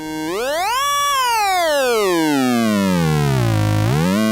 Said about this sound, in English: as you can also hear, I'm emphasizing different harmonics by doing this